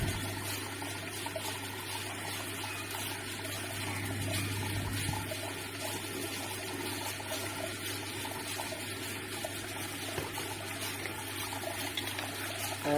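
Distillate from a reflux still trickles softly and continuously into a bottle, a faint steady stream over a low hum.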